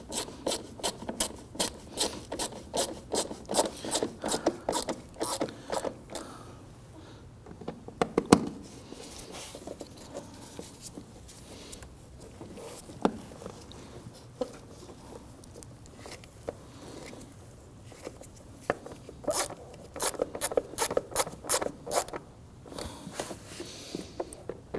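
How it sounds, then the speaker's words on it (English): Hand-tightening screws on the lid box of a 2009-2017 Volvo XC60 3.2L L6 during alternator replacement, with a quick series of close ratcheting clicks in bursts separated by quieter rubbing and handling. "let's go ahead and secure the screws on our lid box here."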